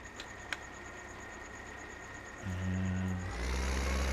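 A vehicle engine in Farming Simulator 2015 cranks and catches, then settles into a low, steady running drone after a quiet stretch of faint background tones.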